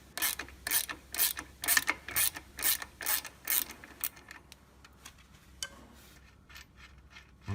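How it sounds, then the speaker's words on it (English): Ratchet loosening the 18mm nuts on a table frame, a rapid series of sharp metallic clicks in quick strokes that grow sparser and fainter toward the end, close and with no talking. "It's easy if you can lock with one side and use a ratchet on the other."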